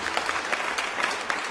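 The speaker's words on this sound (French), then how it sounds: "Mesdames, messieurs, applaudissez très fort." Steady clapping from a crowd at an awards ceremony fills the whole moment, dense and sustained with a few sharper claps standing out.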